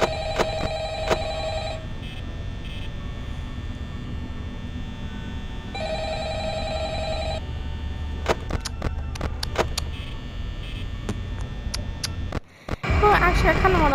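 An old telephone ringing in Five Nights at Freddy's, two bursts of a bright electronic ring separated by a pause, followed by sharp clicks and a burst of static near the end, with a person talking over it.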